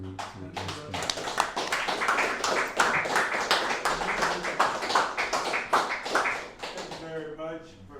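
An audience at an academic lecture breaks into applause, many hands clapping in a sharp, dense, continuous patter that swells and holds for several seconds before tapering off as a voice begins to speak.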